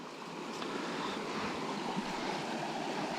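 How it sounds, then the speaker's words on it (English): A small trout creek running high and almost flooded, a continuous rushing, splashing wash of water close by, steady and without voices. "This creek's almost flooded at the moment, just to give you an idea of how small this stream is"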